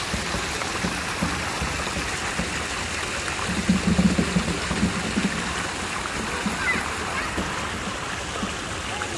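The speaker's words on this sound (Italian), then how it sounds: "Questo monumento con l'acqua è veramente, per me che piace l'acqua, è veramente bellissimo." Water runs steadily from a monument fountain in a city square with tall apartment blocks nearby, a continuous broadband rush with a brief louder splashing burst midway, heard close with no speech over it.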